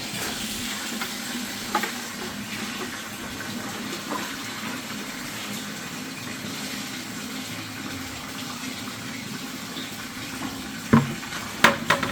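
Food frying with sesame seeds gives a steady, soft sizzle and crackle throughout, with a few clattering knocks of a utensil near the end.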